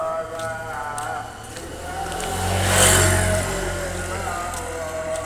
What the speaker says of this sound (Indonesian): Ada kendaraan lewat tuh.